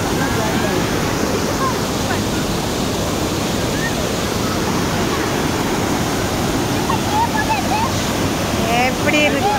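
Rushing water at a waterfall, a dense, steady roar filling the scene without letup, with faint voices and chirps now and then above the wash.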